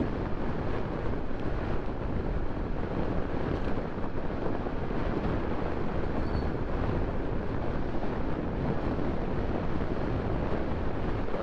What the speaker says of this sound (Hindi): बाइक को थोड़ा तेज चला रहा हूँ।